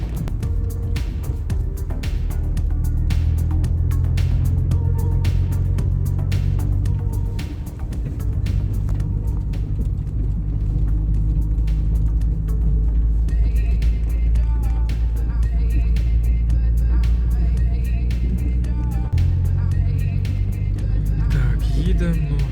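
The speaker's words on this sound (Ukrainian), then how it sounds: "Ну що нормально, їдемо повний привід." Vehicle in all-wheel drive towing a trailer off-road on a dirt track, its engine droning steadily and loudly throughout with shifts in revs, while someone talks over it.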